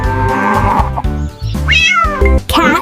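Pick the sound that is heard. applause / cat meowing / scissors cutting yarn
cat meowing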